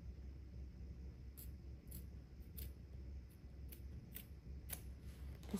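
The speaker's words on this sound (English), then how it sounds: "I curve it with the scissors." Scissors snip through fabric while trimming around a stitch line on an in-the-hoop embroidered bag, a series of small, faint crisp clicks spaced irregularly over a low steady hum.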